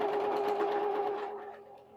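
Sewing machine stitching quilt pieces with a fast, even mechanical hum and rapid needle chatter, close and steady before easing slightly toward the end, with no voices.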